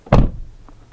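Door of an old car being moved: a single close, solid thunk as the door shuts or shifts, followed by a brief faint rattle.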